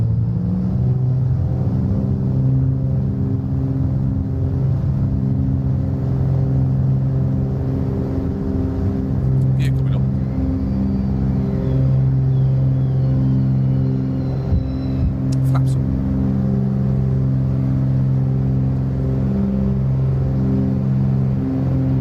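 Twin engines of a Milviz 310R aircraft in Microsoft Flight Simulator powering up after landing, a loud, steady layered engine rumble and drone with a couple of brief clicks, no talk.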